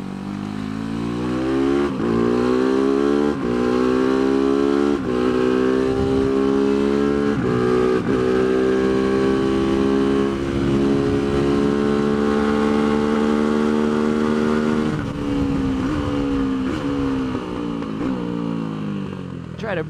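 Tianda TDR300 motorcycle engine revving hard on a race track, a loud continuous roar climbing and falling through gear changes with sharp shifts, close and sustained throughout.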